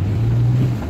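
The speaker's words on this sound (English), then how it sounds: "Oh, my exhaust got ripped off or something. We're making some noise now" A Hyundai Santa Fe engine roars loud and close with its exhaust ripped off, a low, droning, buffeting growl that holds steady for a moment.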